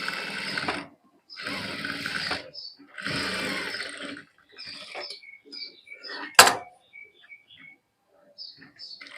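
A sewing machine stitching fabric for a princess-cut garment: three close, loud bursts of fast whirring stitches separated by short pauses, followed by quieter clicks and a sharp snap as a voice speaks.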